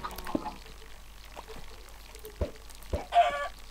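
Chickens in Minecraft cluck in a few short, scattered bursts, fairly faint and spread out over a quiet background with some soft clicks.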